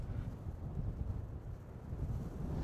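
Strong wind at night in Rockport buffets the microphone outdoors, a steady low rumble that swells and eases in gusts, with no talk.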